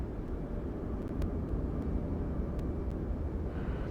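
Cessna 172 light propeller plane in Microsoft Flight Simulator 2024, a steady low engine drone and rumble holding evenly throughout with no talking.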